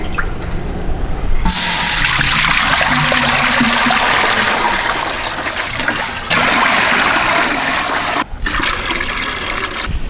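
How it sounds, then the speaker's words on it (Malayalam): Water gushing into a cooking pot for biryani, a loud splashing pour that starts after a short quiet moment, runs strongly for several seconds and breaks off briefly near the end, with no talk. "ആദ്യം നമുക്ക് വെള്ളം ഒഴിക്കാം."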